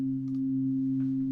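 Pure sine tones from a Xfer Serum synthesizer hold steady and low as a sustained harmonic drone, with faint brief clicks above.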